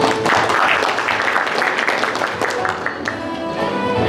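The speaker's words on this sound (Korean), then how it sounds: "큰 박수로 맞이해 주시기 바랍니다" A seminar audience claps to welcome a speaker, a brisk burst of hand claps that is fairly loud and close, with some voices mixed in.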